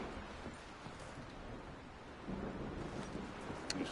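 Thunderstorm in a video game: a low, steady rumble of thunder and rain-laden wind rolling on throughout, fairly faint, with a slight swell near the end.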